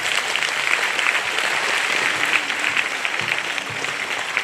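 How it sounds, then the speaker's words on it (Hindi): An audience claps at a church golden jubilee celebration at St. Paul's Catholic Church in Binnaguri. The applause is dense and sustained, a steady wash of many hands from a large crowd throughout. "आइए हम लोग इन सबों के लिए जोरदार से ताली बजा देंगे।"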